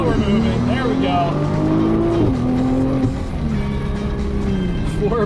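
A 2021 Nissan GT-R launches from brake torque and accelerates hard in R mode, its engine note loud and close and rising steadily in pitch, with a brief dip at each gear change.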